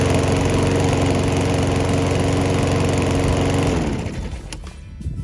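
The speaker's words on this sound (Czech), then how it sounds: "Motor rozjedete jednoduše stiskem tlačítka na integrované konzoli." A Parkside PPBRM 53 B2 petrol lawn mower engine runs loudly and steadily at close range for about four seconds after its electric start, then is cut off and quickly winds down to quiet.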